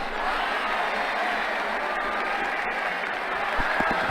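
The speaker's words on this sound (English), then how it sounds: "The crowd really enjoyed that." Stadium crowd in the cricket video game Ashes Cricket 2009 applauding a shot, a continuous wash of clapping and crowd noise at moderate distance, with faint commentary voices underneath.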